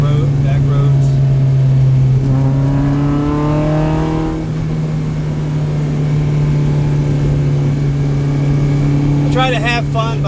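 A K24-swapped Acura Integra on twisty back roads, its engine surging in a couple of rising acceleration bursts with climbing revs, loud and close, then settling back to a steady drone with another brief surge near the end.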